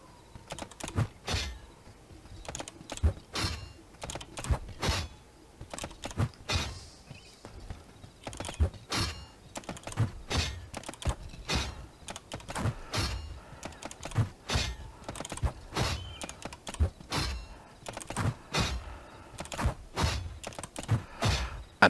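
Rapid computer keyboard typing during the typing game Type Knight, with fast irregular bursts of close key clicks and brief pauses throughout.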